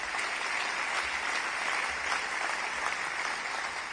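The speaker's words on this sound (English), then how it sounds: "Please, let's have another round of applause." An audience at the 2026 Ockham New Zealand Book Awards ceremony gives a steady, full round of applause, a dense even wash of many hands clapping with no voices over it.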